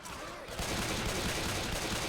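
Steady gunfire in Left 4 Dead, a continuous rattle of rapid shots at moderate loudness, with a voice faintly present underneath.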